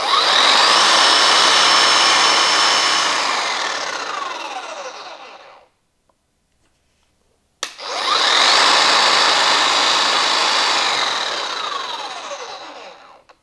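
A Bosch GSH 14 C demolition hammer with a brushless 240 V motor runs in two loud, harsh bursts of about five seconds each. A brief silence separates them, and the hammering tapers off at the end of each burst.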